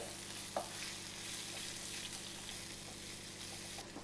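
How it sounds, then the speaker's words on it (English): Onions cooking down in a pan with a pinch of salt, a steady low sizzle running throughout with a faint stir or clink early on, fairly quiet and even, no voices. "So the onions are cooking"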